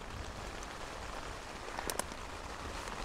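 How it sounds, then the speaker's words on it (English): Heavy rain pours steadily during a thunderstorm in the Swiss Alps while wild camping, a dense even hiss drumming on a surface, with a couple of sharper taps and no voices. "It's hammering down with rain once again."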